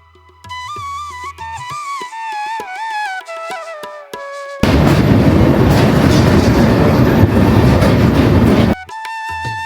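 A train approaching Varanasi rolls along with rhythmic clattering wheels, first under a loud melodic electronic tone, then a dense, roaring rumble that dominates before briefly easing.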